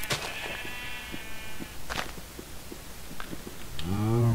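Sheep bleat in a pen in the Minecraft Feed the Beast game, with a long wavering bleat at the start and another rising near the end, separated by soft blocky footstep taps and small clicks.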